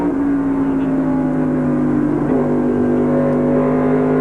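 Craftsman Super Truck Series race trucks run flat out at Homestead in 1995, a steady loud engine drone holding one sustained pitch for the whole stretch, heavy and continuous with no speech over it.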